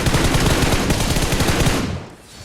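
Rapid automatic gunfire in a battle-royale video game, a loud dense burst of shots for about two seconds that then cuts off into quieter game ambience.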